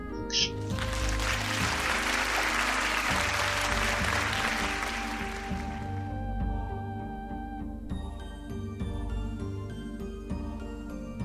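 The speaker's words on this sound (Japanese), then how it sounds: "じゃあ拍手。" Applause in a role-playing video game rises as a dense burst of clapping over the first half, then fades while the game's music carries on.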